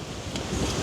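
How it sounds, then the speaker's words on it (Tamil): Strong wind gusting outdoors beside a village lake, a steady broadband roar buffeting the microphone with no voices over it. "சரியான காற்று அடிக்குது."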